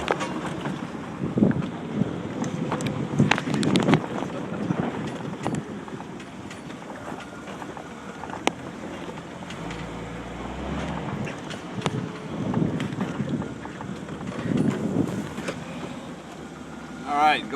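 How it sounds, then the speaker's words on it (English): A 1987 Jeep Wrangler YJ automatic crawls off-road through woods, a low steady engine drone mixed with rustling, bumps and wind buffeting, while someone talks over it. "I'm 4-wheeling out here in the woods."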